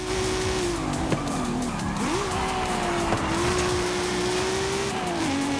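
Race cars in the video game Forza Horizon 5 roar together in a dense, constant engine drone while tires squeal in a long wavering whine, with occasional sharp clicks and bumps, loud and continuous.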